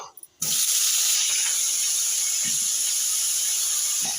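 Pieces of pointed gourd hit hot mustard oil in a wok with a sudden loud, steady sizzle that keeps hissing evenly, with a few faint clinks of a utensil underneath.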